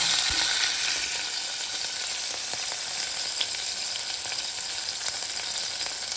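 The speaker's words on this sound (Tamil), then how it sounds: "பிறகு உள்ளி பச்சை மிளகாய் வெங்காயம் எல்லாம் போட்டு வதங்க விடுவோம்." Garlic, green chillies and onions sauté in a pan for a Sri Lankan Tamil chicken curry, producing a steady, bright sizzle with a few faint stirring clicks, close and uninterrupted.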